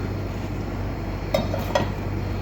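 A tawa griddle is set down on a stove while an omelette sandwich is being made: two light metallic clinks, close together, rise over a steady background hum.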